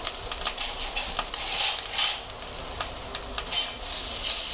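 Grated fresh coconut sautéing in ghee over a low flame, a soft sizzle broken by repeated clinks and scrapes of a spoon against the pan in an uneven rhythm, close and with no voices.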